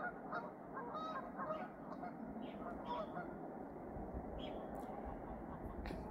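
Swans call with repeated nasal honks over a constant low rumble, the calls fairly close and overlapping at times, in Sweden.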